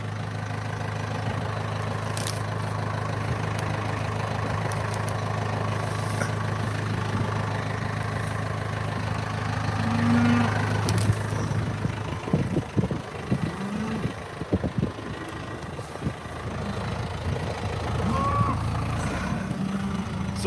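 A tractor engine idles steadily in a snowstorm, a low continuous drone with some clunks and rattles from inside the cab partway through.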